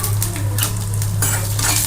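Ginger fries in a pan for spicy pongal as a metal spoon stirs it, giving clinks and scrapes against the pan over a low sizzle.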